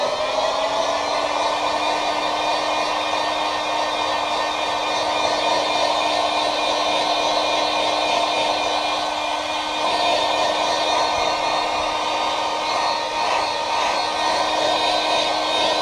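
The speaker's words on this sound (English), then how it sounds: "use a hairdryer or a heat gun to speed it up" A hair dryer blows with a steady, loud whirring drone that holds constant from start to finish, drying dye on auto leather.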